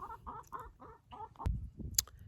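Backyard chickens cluck in a quick series of short, rhythmic calls close by, followed by scattered scratching and a brief sharp noise.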